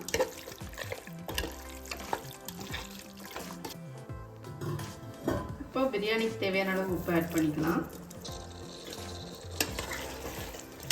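Chicken biryani mixture stirred in a pot, a scraping, sizzling texture of frying and mixing that runs steadily under someone speaking Tamil close to the microphone.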